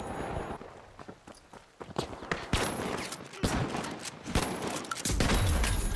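Shotgun fire in The Finals video game: repeated loud, sharp blasts spaced irregularly amid busy gameplay clatter and footsteps, close and punchy, with no talk.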